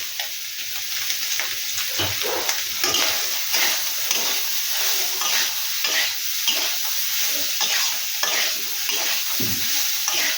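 Soybean chunks frying in a pan with salt and turmeric, a steady crackling sizzle broken by repeated stirring scrapes, close and continuous with no talk.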